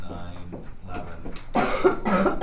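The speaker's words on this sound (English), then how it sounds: "Of course, I'm still coughing." A person coughs a few times up close, a short burst of rough, harsh coughing standing out after quieter moments of background sound.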